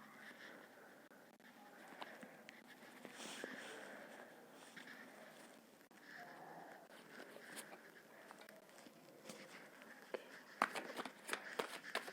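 Tarot cards being shuffled and drawn from a deck during a reading, a soft, steady papery rustle with brief flicks and taps, close and quiet, with sharper card snaps toward the end.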